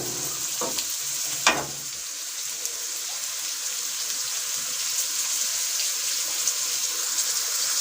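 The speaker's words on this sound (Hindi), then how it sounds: "प्याज को हम लाइट ब्राउन कर लेंगे।" Chopped onions, two medium ones, frying to light brown in a pan give a continuous even sizzle, with a couple of sharp utensil knocks near the start and then steady hissing throughout.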